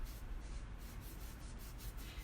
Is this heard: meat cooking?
no